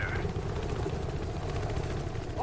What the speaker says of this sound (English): Oh, they got a chopper up.